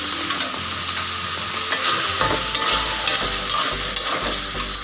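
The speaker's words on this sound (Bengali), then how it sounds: "এখন মশলার সঙ্গে কাঁঠালের বিচি আমি আরও 2 থেকে 3 মিনিটের মতো সময় নিয়ে ঢেকে কষিয়ে নিব" Jackfruit seeds tossed with spices and salt in a pan for a rohu fish curry, a loud continuous sizzle with intermittent scraping stirs and low thumps, close and without speech.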